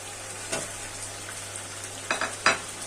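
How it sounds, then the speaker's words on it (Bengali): Fried potatoes dropped into sizzling chicken kosha, with a steady low frying hiss and a few sharp bursts of sizzle as the pieces hit the hot pan, close and clear. "আমি এখন ভেজে রাখা আলুগুলো দিয়ে দিচ্ছি"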